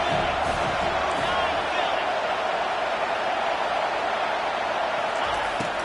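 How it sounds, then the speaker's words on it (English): Stadium crowd at an American football game roaring on a fourth down, a dense continuous wall of noise with scattered shouts and whoops, steady and loud throughout. "4th down, and this crowd is making it miserable on this offense"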